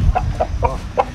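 Índio Gigante chickens give four quick, evenly spaced clucks close by, over low rumbling background noise.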